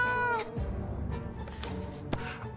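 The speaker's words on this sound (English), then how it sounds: "I love a cat." A cat meows in the survival video game 60 Seconds, one short tonal call at the start, followed by louder game sounds and effects.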